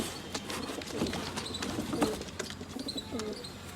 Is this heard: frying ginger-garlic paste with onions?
no